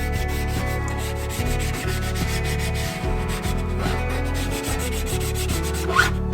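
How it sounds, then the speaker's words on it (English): A squeegee rubs and presses vinyl wrap onto a Polestar 2 centre console, making a steady, close scraping and rubbing texture with repeated strokes and no talking. "we can use our squeegee a little bit"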